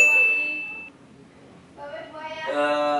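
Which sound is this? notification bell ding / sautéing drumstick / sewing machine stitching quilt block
notification bell ding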